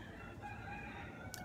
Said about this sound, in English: And if you hear something in the background, yes, it is a rooster.